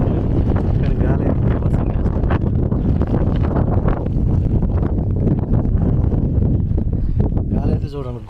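Strong gusty wind buffets the microphone on the Ratangad fort trek in Maharashtra during the monsoon, a loud, continuous roar with rustling that persists throughout.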